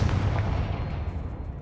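The Confringo fire spell in the Hogwarts Legacy video game goes off as a short, deep, rumbling blast that booms at the start and fades away over about a second and a half.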